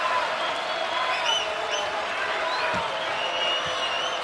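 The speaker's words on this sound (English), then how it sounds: "the crowd wants defense" Basketball arena crowd at a Wichita State vs. UConn NCAA men's game, a steady, loud wash of cheering and chanting for defense that stays level for several seconds with a faint bounce or thud underneath.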